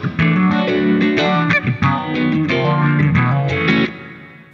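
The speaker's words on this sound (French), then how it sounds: "Pour la suite du riff, j'ai voulu rajouter un petit phaser." Electric guitar riff through a HeadRush Gigboard with a phaser effect and reverb, a steady distorted bluesy phrase of repeated notes and chords, loud and close, ending with a brief pause.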